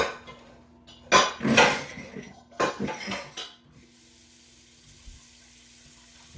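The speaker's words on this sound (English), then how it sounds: "Let me get my pan in some water." A cooking pan rinsed under running water in a kitchen sink after making no-bake cookies: two loud bursts of splashing and clattering metal, then a quiet steady trickle from the tap.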